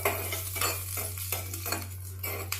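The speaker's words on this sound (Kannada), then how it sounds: "ಲೈಟಾಗಿ ಕಂದು ಬಣ್ಣ ಬರೋವರೆಗೂ ಹುರ್ಕೊಳ್ಳೋಣ ಮೆಣಸಿನ್ಕಾಯಿ ಬೆಳ್ಳುಳ್ಳಿನ" Chillies, garlic and curry leaves stirred and fried in a pan for a round cucumber chutney, with repeated metal utensil scrapes and clinks against the pan over a low sizzle, close and steady, with no talk.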